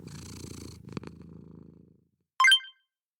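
A domestic cat purrs close up, a steady rumbling purr for about two seconds that fades out, followed by a short high-pitched sound after a pause.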